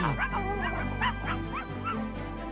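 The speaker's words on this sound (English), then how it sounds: ""Come on," barks Rainbow Dog." A cartoon dog barks and yips in a series of short, pitched calls over a steady low hum, bright and close with no other voices.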